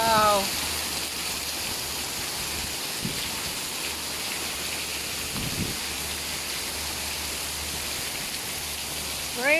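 Steady rain falls on a garden with a constant, even hiss of drops throughout, and faint voices are heard briefly at the start and end.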